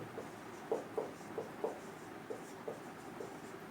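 A pen writes an answer on a paper worksheet for a maths exercise, producing soft, close scratchy strokes in short irregular bursts over a quiet background, with no speech.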